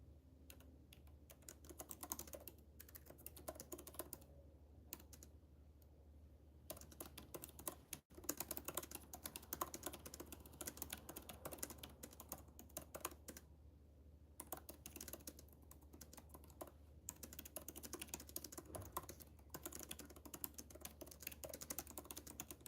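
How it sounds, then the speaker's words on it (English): Someone types on a computer keyboard in rapid, uneven bursts of close clicking keystrokes, with short pauses between runs and a faint room hum underneath. "Sorry, I was typing."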